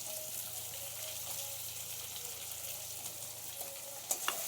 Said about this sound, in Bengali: দিয়ে একটু ভালো করে ভেজে নেব।